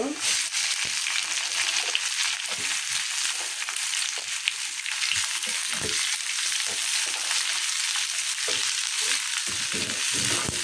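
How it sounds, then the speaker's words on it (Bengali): Chopped onions frying with garlic in a pan: a loud, continuous close sizzle and crackle throughout, with occasional soft stirring knocks and no talking. "পেঁয়াজটা আমি ভালো করে ভেজে নেব"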